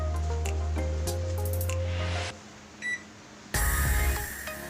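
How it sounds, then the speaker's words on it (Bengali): A microwave oven being set for power, with a few short button beeps over a steady hum that cuts off midway, followed by a brief tone and then a louder whir as the oven starts up. "ভিউয়ার্স, এখন আমরা মাইক্রো পাওয়ার সেট করব ওভেনে।"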